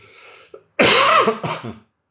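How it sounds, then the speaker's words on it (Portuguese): A single harsh, loud cough bursts out after a brief pause, followed by a smaller raspy cough as it trails off. "perdoa aí, tá, irmãos, minha tosse"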